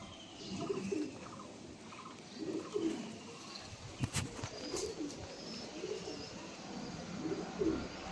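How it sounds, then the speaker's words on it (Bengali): A pigeon close by repeats low, burbling coos about every two seconds, with a sharp click or tap partway through. "অন্য কবুতরটি দেখাবো আপনাদের"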